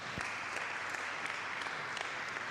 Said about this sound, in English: Another hand clap for LabTrace.